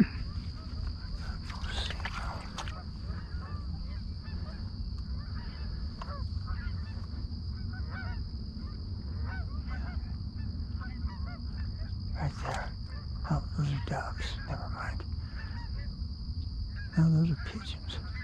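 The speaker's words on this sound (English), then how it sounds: "Here come the geese. They sound close." Wild geese honking during a goose hunt outdoors, a scattered run of calls that grows nearer and louder toward the end over steady low wind rumble, with a few short bursts standing out.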